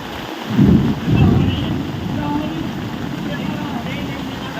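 Heavy rain pours down as a steady, dense broadband hiss, with a couple of louder gusting rumbles near the start before it settles into a constant wash.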